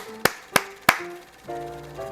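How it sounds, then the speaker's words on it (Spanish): Three sharp hand claps in an even rhythm, the old call for a night watchman, sounding close and dry, followed by a soft tonal background. "Para llamarlos solo tenías que hacer algunas palmas"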